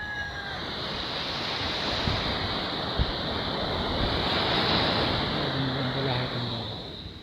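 Strong sea waves roll and crash onto the shore in powerful wind on a darkening December afternoon, a continuous loud wash of surf and gusts with faint voices now and then.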